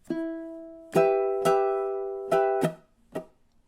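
Ukulele strums in a minor 12-bar blues pattern, one sustained opening chord followed by a few sharp, ringing strums and a short muted chop at the end, played alone and close.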